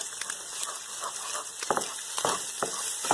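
Egg is scrambled and mixed in a frying pan for chicken fried rice, with a continuous sizzle broken by sharp scraping strokes of the spatula, close and moderately loud.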